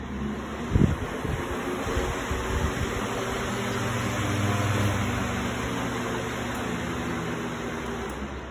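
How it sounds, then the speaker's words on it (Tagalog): Steady broadband whirring of an electric fan running close by, a constant airy hum with a brief knock near the start. "Meron tayong electric fan na malakas."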